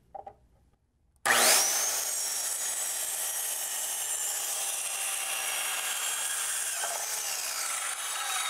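A power saw bites into a wooden board for a mid-century modern TV stand after a brief quiet handling moment, then keeps a loud, steady, close whine through the rest of the cut.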